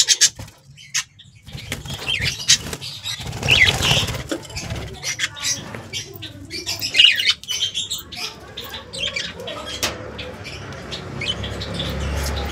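A pet lovebird in a house gives sharp squawks and chirps with bursts of wing flapping, close by, mixed with other bird calls and household noise.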